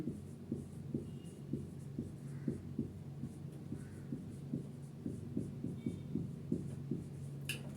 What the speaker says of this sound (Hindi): तो सबसे पहले दोस्तों एलिमिनेशन रिएक्शन का डेफिनेशन लिखेंगे